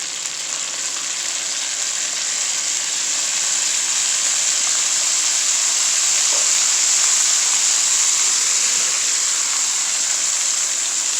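Semolina added to hot ghee for an egg suji halwa sizzles in a steady, close, bright hiss that swells slightly and continues throughout, with no talking.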